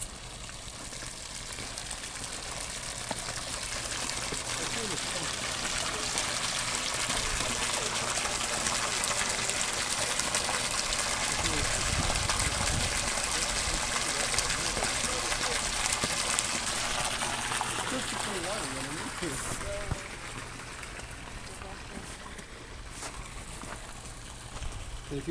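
A sump pump drains water with a steady, continuous rushing flow that stays fairly loud and even throughout, easing slightly near the end.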